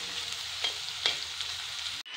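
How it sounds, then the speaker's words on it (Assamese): Carrots being fried in a pan as part of making pulao give off a steady, close sizzle, with a few brief stirring scrapes and no voices. "পোলাওৰ কাৰণে এই গাজৰ এইখিনি অলপমান ভাজি লওঁ"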